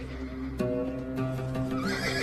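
Georgian horsemen's horses neigh in long, drawn-out whinnies over a steady clip-clop of hooves, close and fairly loud, with a sustained tonal backdrop and no voices.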